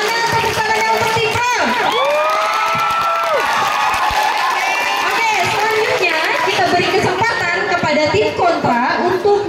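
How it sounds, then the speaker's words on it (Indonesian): An audience at a school language-month debate competition cheers and claps for the pro team, a loud continuous crowd roar full of shouts and whoops, with voices mixed in throughout. "mana tepuk tangannya untuk tim pro?"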